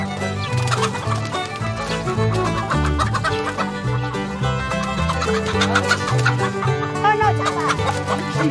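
Farmyard chickens cluck steadily, with some crowing, as a man tries to catch a bird to cook. A dense, harmonic music-like backing plays throughout at a constant level.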